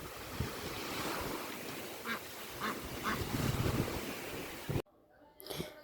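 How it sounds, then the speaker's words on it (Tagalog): A duck quacks several times in short bursts amid strong wind and surf noise at the seashore, before the wind cuts out abruptly. "Yan ang bibe."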